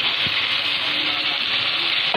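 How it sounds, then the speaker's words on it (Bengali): Pangas fish tossed in spiced masala fries with a loud, constant sizzle, and a few soft knocks and scrapes of stirring sound close by. "এই মশলার সাথে সুন্দর করে মাছটাকেও কষিয়ে নেব"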